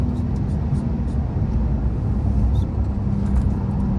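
A Porsche 911 Carrera 4S of 450 hp lapping the Nürburgring, engine droning loud and close from inside the car as the throttle is eased off, a steady low roar with brief faint voices.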